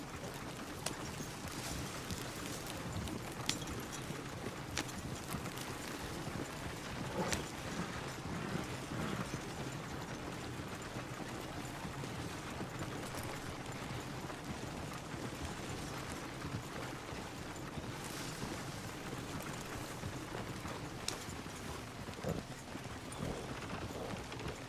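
A horse galloping along a wooded trail in the video game Red Dead Redemption 2, with steady rhythmic hoofbeats over a dense bed of game ambience and music, continuing throughout with no talk.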